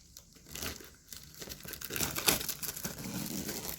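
Packaging rustles and crinkles as an Everest modem is unboxed for the first time, with close, uneven bursts of plastic and paper crackling that grow busier toward the end.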